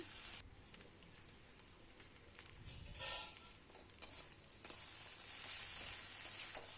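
Bottle gourd sizzles steadily in a hot pan over medium heat, a bright, continuous hiss that surges now and then as it is stirred.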